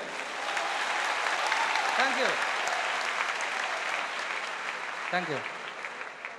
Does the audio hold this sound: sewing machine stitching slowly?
no